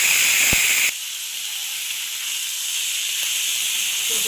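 Chopped cabbage hits a hot pan of frying carrots and cauliflower seasoned with salt and turmeric, giving a sharp close hiss that settles into a steady loud sizzle with faint clatter, no talking.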